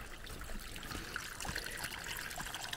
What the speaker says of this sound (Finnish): Täältä on lähtenyt vettä aika paljon.